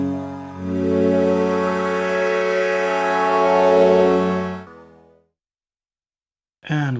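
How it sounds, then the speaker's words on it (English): Hydrasynth synthesizer playing a sustained chord through a phaser effect, a rich swirling tone that holds loud and steady for about four seconds, fades out, and is followed by a short silence and a brief new note at the end. "Phaser, that sounds cool."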